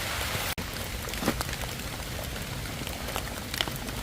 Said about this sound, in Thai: โอ้ฝนฝนตก